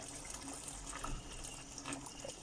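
Water splashes and gurgles as it is poured into a pot of potatoes being braised with duck and thyme, a brief, soft, continuous stream with no talk.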